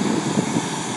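Cayman Airways airliner backtracking along an airport runway, a steady loud engine roar with a broad rumbling hum held throughout.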